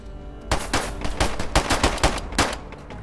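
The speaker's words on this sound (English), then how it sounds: "He's shooting me." Gunfire in the video game DayZ: loud, close bursts of rapid automatic shots in quick succession with short gaps between volleys, and no voices.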